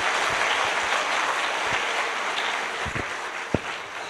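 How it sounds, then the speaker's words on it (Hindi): A live show audience at a Hindi-language motivational event claps for the participants, a fairly soft, steady wash of many hands with a few scattered louder claps near the end. "मैं चाहता हूं कि आप सभी के लिए अब तक की सबसे जोरदार तालियां एक बार हो जाए"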